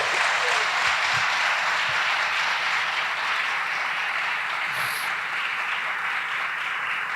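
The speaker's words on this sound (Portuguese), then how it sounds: "Você pode aplaudir Jesus?" A church congregation at a conference applauds Jesus, a steady, even wash of clapping held at moderate level throughout with no talk over it.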